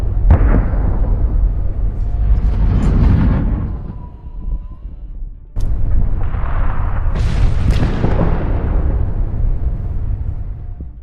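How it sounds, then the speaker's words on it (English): Tank fire and exploding convoy vehicles in an ambush produce heavy, very loud booms that roll into long rumbling blasts, with a second sharp detonation midway and sustained roaring rumble after. "Tanks open fire from different angles. The first vehicles in the convoy catch fire."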